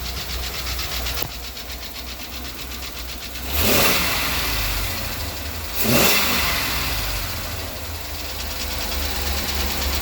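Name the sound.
Ford Econoline engine running with a knocking noise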